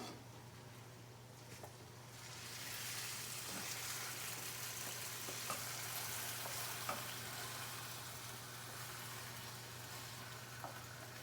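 Pepper steak frying in a pan, a steady broadband sizzle that swells after a couple of seconds and holds loud and continuous, with a low electrical hum underneath and a few faint clinks.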